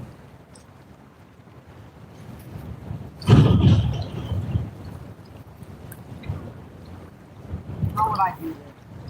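Wind buffets an outdoor microphone over open sand at a freshwater fishing spot, a low rumbling roar that surges in gusts, loudest around the middle and again near the end, with faint voices underneath.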